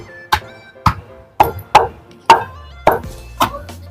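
Soaked lentils are ground with garlic for lentil vadas, heard as seven sharp, evenly spaced knocks roughly half a second apart, close and fairly loud, each ringing briefly before the next strike.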